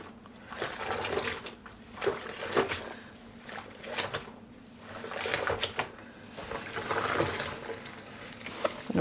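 Yarn being dunked and swished in a dye pot of water during home dyeing of self-striping sock yarn, soft irregular splashes and sloshing, fairly quiet and close.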